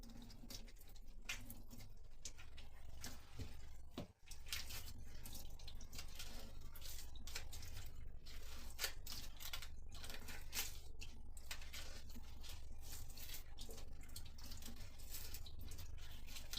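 Onions are rinsed under a running kitchen tap, with a soft, quiet patter of flowing water and scattered drips and knocks against the sink, no talking.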